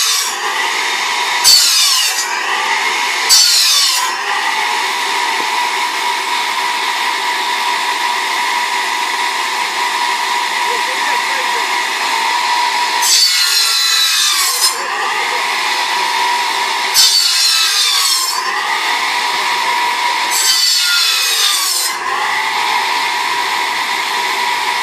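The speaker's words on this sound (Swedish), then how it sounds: "Här sågar man till ved för kommande vinter." Power saw cutting firewood for winter in the village of Čekmin, a long steady buzzing whine with several louder bursts as the blade bites into logs, close and without talk.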